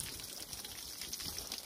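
Water being poured into a toy truck during a car wash play session, a soft, continuous splashing trickle, close and fairly quiet, with no talking.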